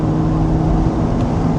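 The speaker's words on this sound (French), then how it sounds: "Et le moteur prend quand même 8500 tours," A McLaren 675LT Spider engine roars loud and close in a brief, steady burst of dense mechanical growl with no break or talk.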